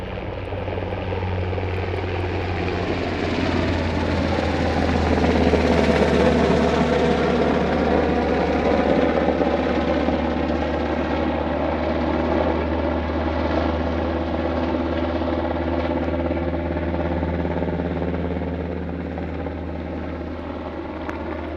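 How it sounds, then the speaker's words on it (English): A black helicopter flying dark at night near Area 51, its steady thumping rotor drone filling the whole stretch, loud and constant, swelling slightly as it passes overhead. "we got a black helicopter in the middle of the night."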